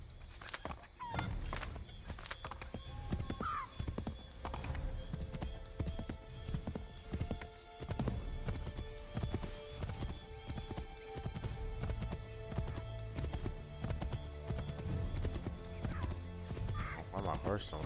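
A horse clip-clops along in Assassin's Creed 3, its hooves beating a steady walking rhythm up close, with occasional whinnies and character voices talking over it.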